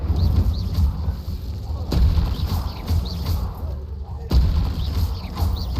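The Incendio fire spell goes off repeatedly in Hogwarts Legacy, each cast a heavy booming blast, with several strong thumps spaced about a second or two apart over a continuous rumbling battle background.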